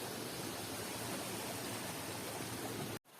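A small forest stream on Mount Masigit flows steadily, a close continuous rushing hiss of water that ends abruptly in a brief cutoff.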